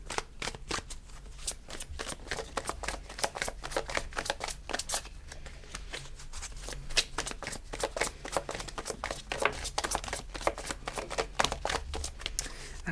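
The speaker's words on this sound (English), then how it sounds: "cards really jumping out of the pack there" A deck of tarot cards is shuffled by hand, a steady stream of quick, crisp riffling flicks heard up close with no talking.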